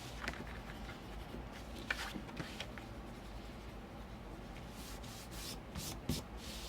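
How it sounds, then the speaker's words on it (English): A folded sheet of paper being burnished along its score line, faint close rubbing strokes with a few soft taps and scrapes, quiet and without talk. "press it down and burnish."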